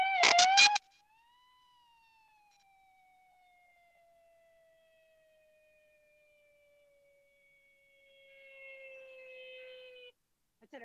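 A singer imitates a siren with the voice: a short burst of quick vocal revs, then one long smooth gliding tone that slowly falls and fades, soft and alone in a quiet room.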